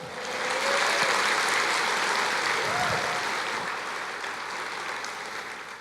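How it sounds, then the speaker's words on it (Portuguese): A church congregation applauds steadily in a reverberant hall, a dense wash of clapping that stays loud throughout and eases slightly toward the end. "Aplauda o Senhor."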